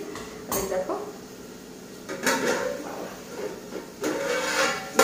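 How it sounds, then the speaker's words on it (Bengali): Dishes, pots and pans are scrubbed and handled at home, with three separate bursts of clattering metal and ceramic clinks and scraping, separated by quieter pauses. "এখন বাসনটা মেজে আছি"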